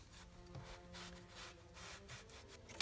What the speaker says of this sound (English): a quick wipe down with a microfiber towel